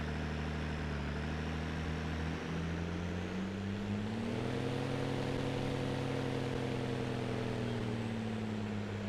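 A heavy tractor engine drones steadily and close, its pitch climbing midway as it works harder under load going uphill.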